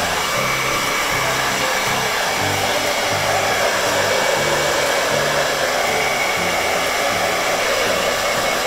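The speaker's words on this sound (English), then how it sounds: "low temperature setting, low blow dryer setting" A hair dryer blows steadily on a low setting while drying a pug after a bath, a constant whooshing hum with no talking, loud and close.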